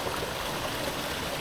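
Steady broadband rush of water flowing along a small canal at Badger Weir, a continuous close wash with no voices.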